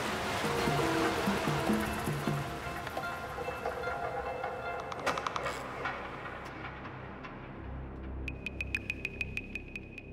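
Water pours steadily from the Kuhrang tunnel, bored through the Zagros mountains, into a river in Iran, making a continuous broadband rush without speech, with brief clicking and tapping sounds near the end.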